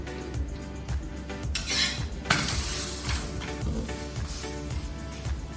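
Frankie roll filling double frying in butter in a pan, a steady sizzle with repeated scraping and clinking of a spatula, close and continuous, the sizzle surging louder partway through.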